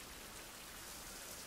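Steady rain hisses evenly in a video game scene from Survival Fountain of Youth, a dense uniform wash of falling drops with no talking.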